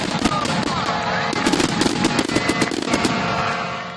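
Fireworks burst in a rapid, dense run of sharp cracks and booms, loud and close, with crackling between the bangs and faint voices in the background.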